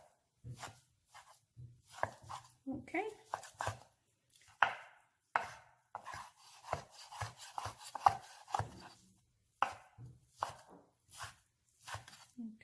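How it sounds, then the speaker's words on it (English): A knife chops cooked ham into small pieces on a board, crisp uneven thuds and scrapes in quick bursts separated by brief pauses, close and clear. "I like to cut it in half because it's too thick, and I like it nice and small"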